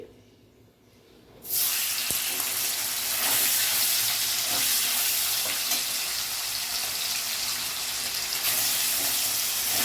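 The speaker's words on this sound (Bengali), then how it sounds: "এবার আমি পনিরটাকে ভেজে নেব। পনিরগুলো ছেড়ে দিচ্ছি।" Paneer pieces dropped into hot oil in a kadai, bursting into a loud, steady, hissing sizzle after a brief quiet moment and continuing unbroken and close.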